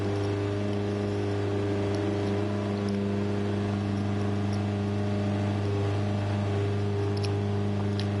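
Race car engine in the Gran Turismo 7 video game, a steady droning hum with layered tonal harmonics held at a constant pitch throughout, moderately loud with no speech over it.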